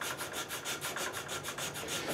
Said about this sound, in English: the rest I am going to finish with a little sanding stick